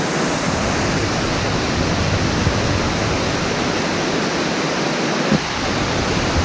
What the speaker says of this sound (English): And here we are, to the waterfall I've been promising you for 2 videos now.